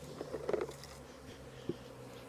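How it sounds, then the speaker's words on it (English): Bees from a large swarm, many of them on the ground, buzz faintly and continuously with a few brief louder rustles, heard close and alone without talk. "This is a lot of bees, a whole lot of bees."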